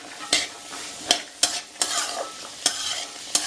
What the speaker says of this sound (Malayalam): മീഡിയത്തിൽ കിടന്ന് പതുക്കെ ഇളക്കി തോരനാക്കി എടുക്കണം വേവിച്ച്